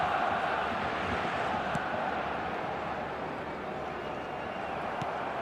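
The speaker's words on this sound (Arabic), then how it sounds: "مشتعلة الأجواء في المدرجات، الجماهير لا تهدأ، الصخب عالي في ملعب رائع" Dense, steady roar of a large stadium crowd at a Real Madrid versus Barcelona Clásico football match, a continuous wash of massed voices filling the whole stretch without letup.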